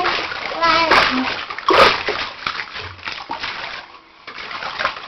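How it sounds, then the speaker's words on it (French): A child splashes hard in a bath, making big waves. Sharp sloshing bursts come from close by, and a child and an adult talk over the splashing. "À faire des grosses vagues ainsi, t'as l'eau qui va monter jusque ton visage."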